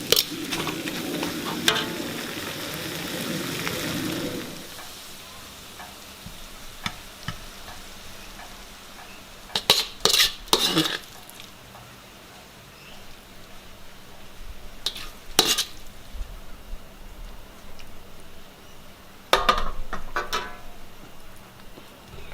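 Beef stir-fry with ginger, shallots and spring onion sizzling in a pan. A loud, dense fry opens for several seconds, then settles into a steady softer sizzle broken by sharp clicks and scrapes of stirring.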